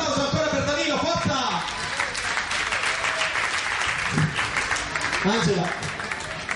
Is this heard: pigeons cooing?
no